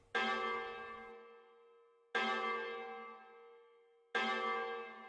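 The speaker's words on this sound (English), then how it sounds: "The bell struck 12." Three slow, ringing strokes of a church-style bell, each one loud and close with a long shimmering decay before the next, counting toward midnight with no voices.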